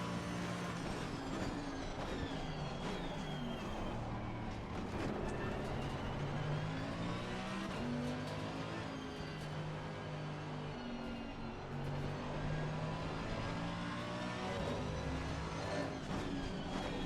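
An Audi race car engine in a racing video game at the Nürburgring, a loud continuous drone whose pitch rises and falls through gear changes, with other cars audible around it and no talk.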